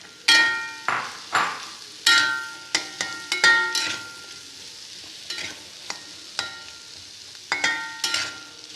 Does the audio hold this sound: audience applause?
no